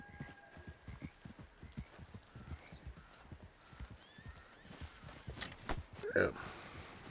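Horse hooves clip-clop in a steady walking rhythm in the Red Dead Redemption video game, close and clear, followed by a brief horse whinny near the end.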